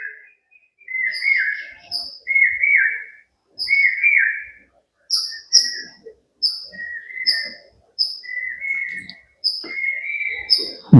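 Bird calls near and clear in a quiet setting, repeated two- and three-note whistled phrases with short gaps, some higher chirps mixed in, no talking.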